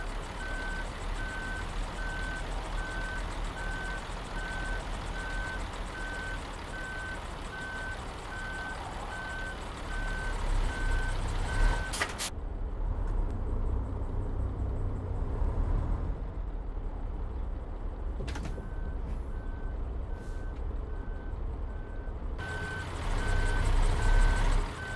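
In a trucking video game, a truck backs toward a trailer with steady, evenly spaced reversing beeps over a constant engine rumble; the beeping pauses midway, then resumes.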